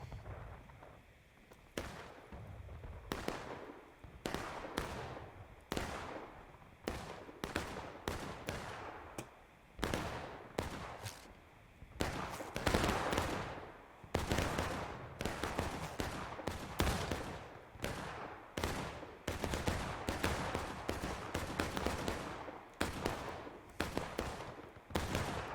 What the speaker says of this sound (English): A lot of shooting starting to happen up top here.